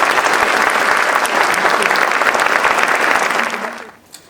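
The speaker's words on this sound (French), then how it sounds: "j'aimerais bien que vous applaudissiez parce que chacun a participé" Loud, dense audience applause fills a hall during a French municipal election campaign speech, sustained and steady before fading out near the end.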